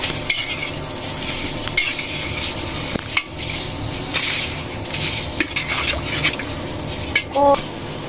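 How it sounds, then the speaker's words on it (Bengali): A spoon stirs ginger-garlic paste and salt in a pan, scraping and clinking repeatedly over a soft sizzle, with no talking. "আদা রসুন বাটা আর কি আর অল্প একটু লবণ দিব এখন নাড়াচাড়া নাড়াচাড়া নাড়াচাড়া করে দিব"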